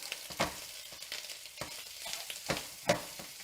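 Crumbled sweet mild Italian sausage meat browns in a frying pan, a soft steady sizzle broken by repeated scraping stirs of a utensil against the pan, close and fairly quiet.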